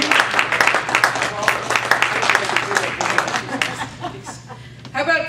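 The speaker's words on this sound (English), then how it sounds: "Why don't we clap while she comes up?" An audience at a humorous speech contest claps steadily, a dense patter of hands at close range, with a voice speaking over it near the end.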